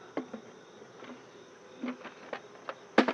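A few honeybees buzz around an open hive on a calm morning. The buzzes are faint and come in short passes as single bees fly near and then away, with a louder burst at the end. No one speaks.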